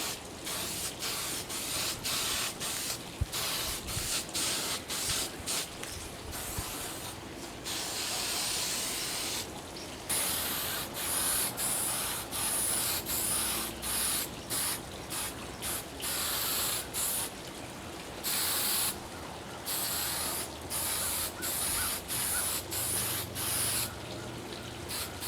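A spray can lays coats of rust-look finish onto a table, steady hissing bursts repeating with brief pauses between passes, close and fairly quiet.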